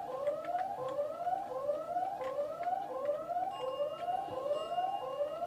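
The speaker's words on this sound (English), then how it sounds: "Can't this alarm just stop?" A wailing alarm siren in the Spider-Man 2 video game, rising whoops repeating in a fast, steady cycle at moderate loudness throughout, with no speech.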